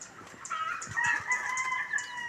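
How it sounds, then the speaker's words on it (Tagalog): Chickens cluck in short repeated bursts while a rooster crows a long drawn-out call, fairly close on a farm, with no voices. "Kaya pala ang manok ay namutak"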